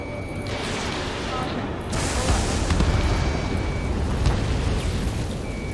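Missile explosions in Ace Combat 7, dense rumbling booms and roaring blasts over constant jet noise, loud and sustained, with radio voices talking over the din.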